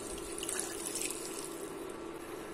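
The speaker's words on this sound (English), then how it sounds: "And a little boiling water." Boiling water poured into a pot of duck curry with tomatoes and curry leaves, a steady splashing trickle at moderate level lasting a couple of seconds, with no one talking.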